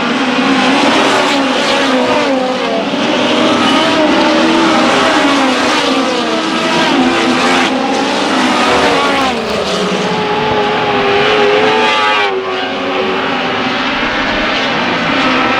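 Race cars scream around a dirt track at a Susky night show, several loud, droning engines rising and falling together as the pack sweeps through the turns, a continuous close roar with no voices over it.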